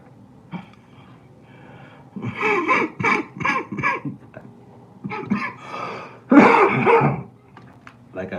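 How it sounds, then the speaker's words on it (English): A man suffering from bronchitis coughs and clears his throat in several harsh, close bursts, with a cluster of rapid coughs followed by pauses and a louder hacking fit near the end. "I have like a bronchitis sickness, so I'm coughing"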